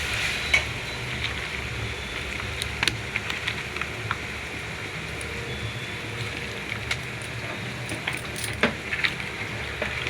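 Goat head curry meat being stirred in a pan, a steady scraping and sizzling of frying pieces with scattered sharper clinks from the utensil, close up and continuous with no talk.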